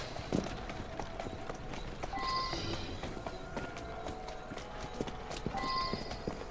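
Hooves of a horse clip-clop in a steady walking rhythm in the video game Assassin's Creed Syndicate, with faint jingles and soft background tones.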